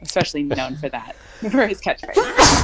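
A woman sneezes once, loud and close, right after a stretch of conversational talk.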